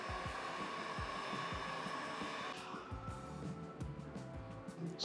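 A hair dryer blows steadily to dry screen-printing ink on a t-shirt, a continuous loud whooshing roar that holds for the whole stretch, with a shift in tone partway through and no talking.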